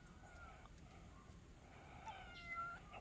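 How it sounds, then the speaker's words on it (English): A cat meows a few times, faint and fairly close, over quiet room noise in a workshop setting. "Oh, hello, kitty."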